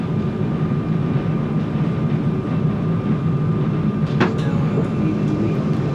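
A passenger train departing Lille station, heard from on board as a loud, steady low rumble with a brief metallic squeal partway through.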